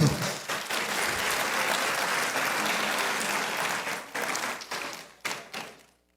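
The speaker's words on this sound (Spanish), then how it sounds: "un aplauso para la hermana que tuvo 6 hijos" A church congregation applauds a mother of six, a strong burst of steady clapping that thins out into a few scattered claps before stopping.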